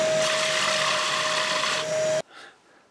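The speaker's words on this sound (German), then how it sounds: "erstmal schneide ich oder bohre ich vielmehr mit dem Kreisschneider hier dieses fast 100 mm Loch rein" A circle cutter in a drill bores a hole of almost 100 mm through wood, a loud, steady whirring grind held close for about two seconds before stopping abruptly, followed by a brief spin-down rattle.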